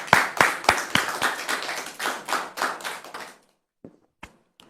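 A small audience applauds a guest with fairly brisk, close hand claps for about three seconds, then the clapping stops abruptly and a few scattered single claps follow.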